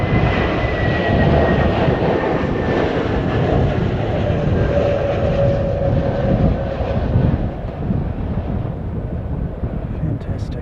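A United Boeing 787-9 airliner in black SAF livery roars past loudly, its jet noise sweeping and slowly fading, with brief talk from spotters underneath.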